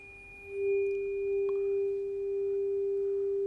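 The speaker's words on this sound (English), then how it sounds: "now we take our red fork and sound it" A struck Solfeggio tuning fork rings with a pure, steady tone that swells in and holds evenly, close and clear over faint background hiss.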